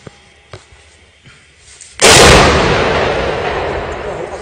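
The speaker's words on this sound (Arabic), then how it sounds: "قذيفة دبابة أخرى تأتي في شارع عبد الله الغريب، تستهدف المنازل السكنية" A tank shell bursts in a residential street in Misurata: one sudden, very loud explosion that lands after a few faint distant thumps and then rolls into a long, slowly fading roar of debris and echo.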